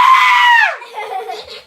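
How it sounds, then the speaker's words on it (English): A loud, sustained scream acted out during a fairy-tale telling of Goldilocks and the three bears, held strongly before trailing off into a quieter strained tail, heard alone without talk. "Goldilocks woke up and saw the three bears and screamed"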